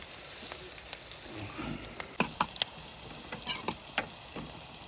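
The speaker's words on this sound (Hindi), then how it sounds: "तड़का होने लग गया है रेडी," Tadka spices sizzle in hot oil while cooking during snowy car camping in Manali. A steady soft frying hiss carries scattered sharp crackles and pops, with no talking.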